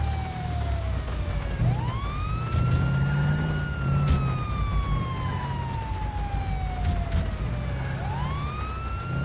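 An ambulance siren in GTA 5 with LSPDFR police mods wails in slow rising and falling sweeps, loud and close over a low engine rumble, with no speech.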